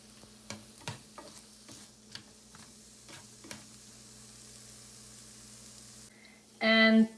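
Onions caramelizing in a pan give a low, steady sizzle broken by sharp scraping clicks from stirring, ending in a loud, dense burst of frying.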